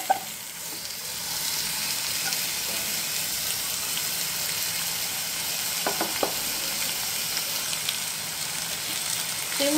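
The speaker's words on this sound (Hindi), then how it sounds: "खीमा डालने के बाद इसको अच्छे से भूनते जाएंगे।" Marinated minced keema fries with onions in a hot pan, a steady, close sizzle that continues throughout with no talking.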